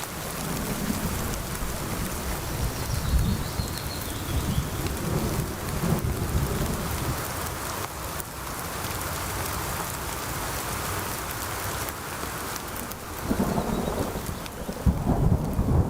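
Steady heavy rain hisses on surfaces throughout, while deep rolling thunder rumbles in the low end and swells near the close. The storm is loud and immersive, with no voices.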